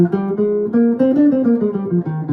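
Single clear notes of a Locrian scale step up and then descend, evenly paced and played close, with no voices.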